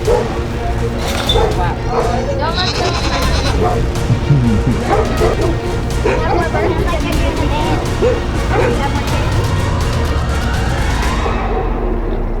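Goats bleating amid a noisy outdoor scene, several overlapping calls and yips near the start with clattering and movement underneath, people talking over the herd.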